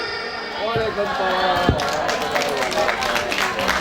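A crowd claps at an Islamic Ramadan recitation competition event, with dense, steady applause and a few louder individual claps and thumps standing out, plus some background voices.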